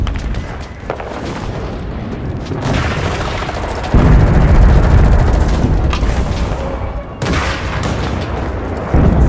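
Loud, booming artillery fire in the World War II shooter Enlisted, heavy low rumbling blasts with a big surge near four seconds and another toward the end, sustained and close.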